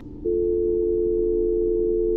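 A steady electronic phone tone drones on unanswered in the horror game That's Not My Neighbor, starting after a brief quiet moment and holding at one constant pitch with no voices over it.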